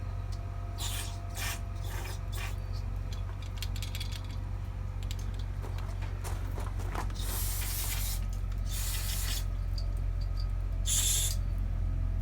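Carburetor cleaner sprayed through a Volkswagen Beetle's 34 Pict-3 carburetor in several short hissing bursts, cutting through a steady mechanical hum, with faint clicks and rattles between them.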